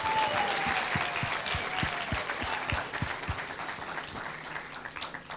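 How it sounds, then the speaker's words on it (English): An audience applauds at a World Intellectual Property Day celebration, with dense steady clapping throughout and a few sharper nearby claps standing out, tapering slightly toward the end. "Give yourselves a round of applause."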